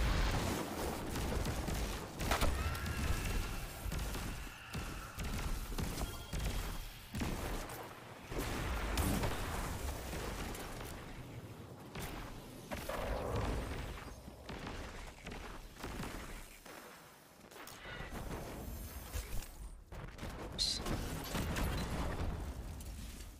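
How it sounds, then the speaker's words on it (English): Video game combat in Destiny 2 with repeated grenade explosions: dense booms and crackling blasts overlap continuously amid chaotic gunfire-like bursts, loud and sustained throughout. "Threw a bunch of grenades."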